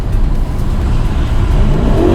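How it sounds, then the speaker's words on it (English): An Aston Martin Vantage idles in neutral in track mode, its engine a loud, steady, deep rumble with a slight rise in revs near the end, heard up close with the windows down. "you go into neutral, and then you can rev. You hear that?"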